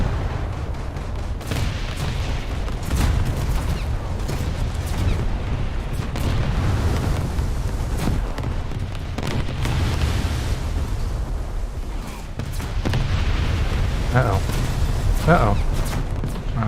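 A naval battle game: a warship's front gun turrets are knocked out amid deep, continuous rumbling booms and explosions. Someone talks over the dense low roar throughout.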